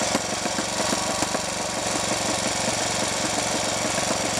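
A Triumph Tiger Cub trials motorcycle, unused for years, runs with a steady single-cylinder engine beat, close and fairly loud, with rapid even pulses and no talking.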